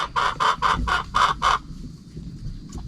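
Chickens in a crowded backyard coop give six rhythmic, evenly spaced clucking calls close by, then fall to quieter scratching and background rustle.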